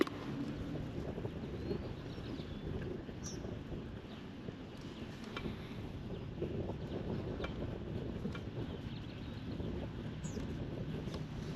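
Wind buffeting over open water from a kayak during a bass, bluegill and crappie fishing outing, a constant low rumbling roar with gusty microphone noise and a few faint clicks, no voices.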